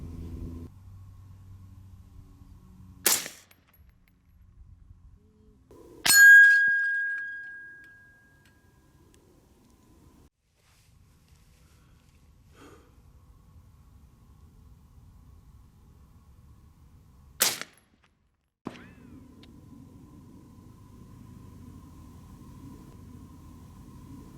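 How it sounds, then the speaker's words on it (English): A TS12 shotgun is test-fired on an outdoor range: a handful of sharp, loud single reports spaced seconds apart, one ringing on briefly, over a low background rumble with no talk. "we're gonna shoot some more and show you guys how it shoots."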